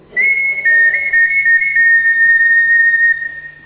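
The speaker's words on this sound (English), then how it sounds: "This is a replica of an old eagle bone flute." A replica eagle bone flute, played as a whistle and now broken down to two notes, sounds a piercing, bright sustained tone that wavers slightly between pitches, loud and close for about three seconds.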